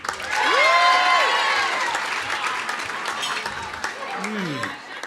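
Audience at a football variety show applauds and cheers for a contestant, loud at first and gradually thinning, with a few voices calling out near the end.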